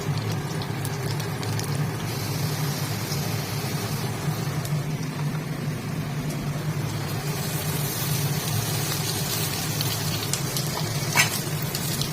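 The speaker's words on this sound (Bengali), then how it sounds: "চলো আলুটা আস্তে আস্তে ভাজা হোক" Steady sizzling of potatoes frying in a pan, a continuous crackling hiss with occasional stirring scrapes, no talking.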